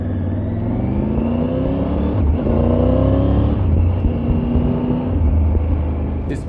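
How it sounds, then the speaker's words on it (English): A Triumph Tiger 900 motorcycle's 106.5-horsepower engine rumbles and revs with rising and falling pitch, loud and close, running continuously with no talk. "the engine sounds fantastic and it's got the power to back it up."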